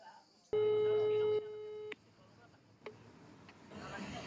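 A single telephone ringing tone sounds for about a second and a half, a steady beep with quieter clicks and faint background noise after.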